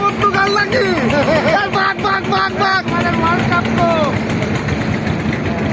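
A trawler boat engine chugs steadily throughout on a river beside the Sundarbans while people talk loudly over it, with a brief rattling burst in the middle.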